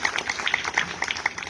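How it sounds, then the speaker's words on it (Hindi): Crowd applause at a political rally in Atraulia, Azamgarh, welcoming a guest on stage: a short burst of scattered, mid-distance clapping with uneven rhythm. "जोरदार ताली बजा के इनका स्वागत करिए।"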